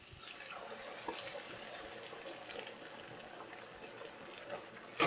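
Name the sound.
coconut milk and vegetable broth poured into pan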